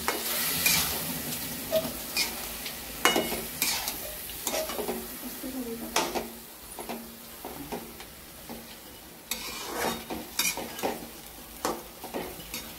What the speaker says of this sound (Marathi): डाळ टाकून झालं की चांगलं असं मिक्स करून घ्यायचं आहे